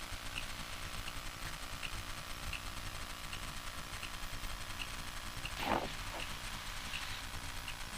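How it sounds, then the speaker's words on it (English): A light aircraft engine holds a steady ground run-up at 2000 rpm with the parking brake set, a continuous even drone heard from inside the cabin, with one brief louder click partway through. "Engine ground check. Okay, parking brake is set. Engine speed 2000."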